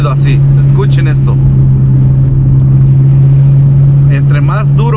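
An odd rhythmic noise from a car's wheels while driving, a strong steady drone overlaid with a loud tyre and road rumble, with people speaking at the start and end.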